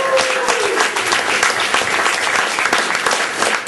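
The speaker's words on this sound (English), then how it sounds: "Why don't we give her a nice little round of applause?" Audience applause at a live stand-up comedy show in a coffee venue, a dense, steady burst of many hands clapping close and loud, with a brief voice at the start.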